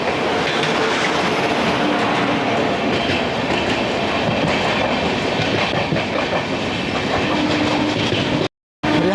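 A Gaya–Delhi Amrit Bharat Express train rolls steadily along the rails near Sahibabad Junction, with a continuous loud rumble and rhythmic wheel clatter, cutting off abruptly just before the end.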